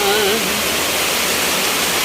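Floodwater pours steadily into a house after heavy rain, a dense, loud rushing wash like a waterfall that fills the whole clip; a brief voice sounds at the very start.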